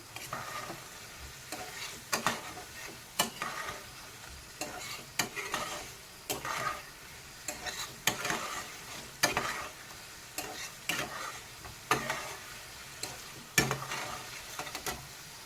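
Potato pieces fry in hot oil in a pan, giving a steady close sizzle broken by regular scraping stirs every second or so, with no voices.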